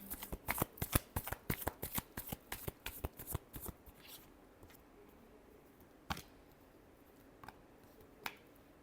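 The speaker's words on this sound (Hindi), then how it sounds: "Last shuffle." A deck of tarot cards is shuffled up close, giving a quick run of crisp riffling snaps for about four seconds that then slow to a few isolated flicks and taps against a quiet room.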